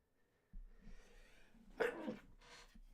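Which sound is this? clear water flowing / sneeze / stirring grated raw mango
sneeze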